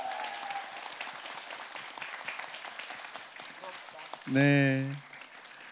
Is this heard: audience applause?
yes